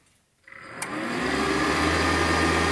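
Cooling fan of a Tesla 295 welding inverter spinning up: a brief click, then a steady whirring hum that rises and holds, fairly loud and close, with no talk.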